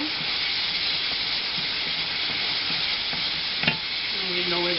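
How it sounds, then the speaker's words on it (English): Chicken curry with curry powder stirred in a frying pan, a steady loud sizzle and hiss with soft scraping strokes, and a brief clatter near the end. "Then again, give it a stir."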